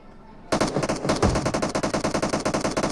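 Automatic gunfire in the PUBG video game starts abruptly after a half-second pause, then rattles on as a loud, rapid, evenly spaced burst of shots to the end, with no voice over it.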